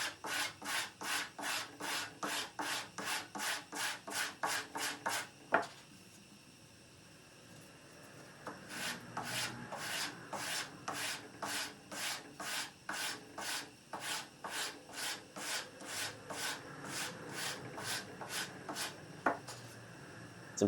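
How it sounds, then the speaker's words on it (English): Sanding block pushed flat along the face of a wooden guitar neck, rapid even rasping strokes in a steady rhythm, close and loud, with a pause of a few seconds before the strokes resume. "It's important that you keep the sanding block flat, and I'd like to sand in just one direction for something like this"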